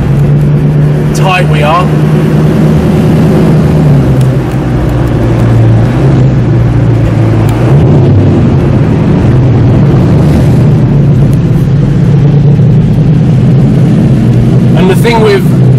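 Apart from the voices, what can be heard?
Audi R8 supercar with loud Armytrix exhaust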